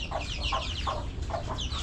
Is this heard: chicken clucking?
yes